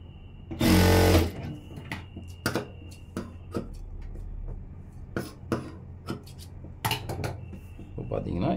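A sewing machine stitches a blouse in a loud close burst near the start, followed by scattered clicks and handling knocks of fabric and metal parts.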